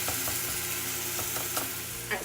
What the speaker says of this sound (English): as my meat is cooking down and it's shredded apart, I'm gonna keep cooking it all the way through till we see no more pink